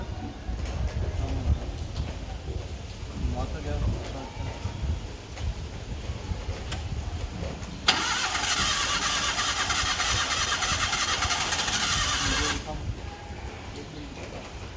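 A large vehicle's engine starts during a Dussehra vehicle worship, a loud steady mechanical roar lasting about five seconds before cutting off abruptly, set against outdoor ambience with birds.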